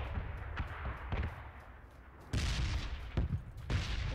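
Field artillery shells fall in a red zone in PUBG, landing as a string of sharp, heavy blasts at irregular intervals, some distant and muffled, others close and loud with a rumbling tail.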